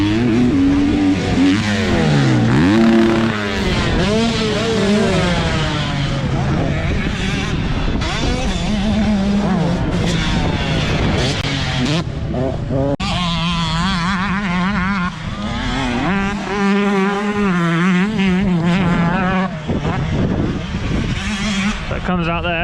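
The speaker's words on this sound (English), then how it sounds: "loads of 2-strokes here today, so it sounds lovely" Two-stroke motorbikes ride around a track near the entry and exit point, a steady, loud engine drone with rising and falling pitches as machines pass and rev, under continuous talk.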